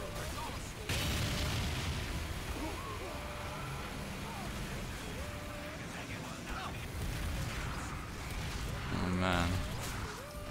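Continuous heavy explosions and rumbling booms in the Madness vs Machines video game, dense and loud throughout, with game sounds and a voice mixed in.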